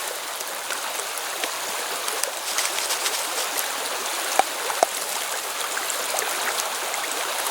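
River water flows and trickles steadily as acorn flour is dunked and rinsed in it, a continuous close wash of water with a couple of small sharp knocks.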